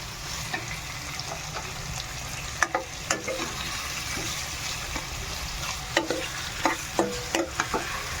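Chicken frying in a pan for chicken curry: a quiet, steady sizzle broken by scattered sharp clicks and scrapes of stirring, denser toward the end, with no voices.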